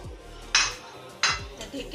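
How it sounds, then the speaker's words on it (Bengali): A cooking pan holding boiled eggs and fried lentil dal gets covered with a lid, giving two sharp, close metallic clanks about a second apart against quiet kitchen background. "এখন ঢেকে দিচ্ছি।"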